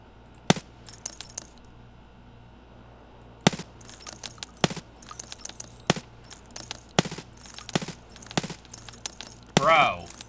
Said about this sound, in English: Who is that sniper shooting at me?